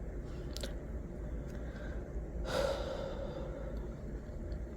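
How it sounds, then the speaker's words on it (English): A single slow, soft breath swells up around the middle of the pass and fades away, set against a steady low background bed with no talking. "Wherever you are, take one slow breath."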